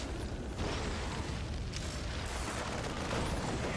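A widow mine fires in a StarCraft II match, a loud sustained burst of explosive rumble and crackle that fills the whole moment with dense game noise.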